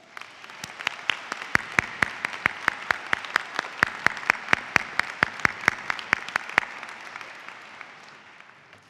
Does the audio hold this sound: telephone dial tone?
no